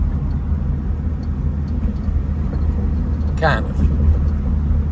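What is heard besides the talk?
1965 Ford Thunderbird car driving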